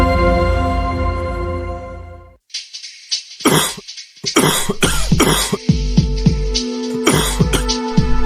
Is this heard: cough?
yes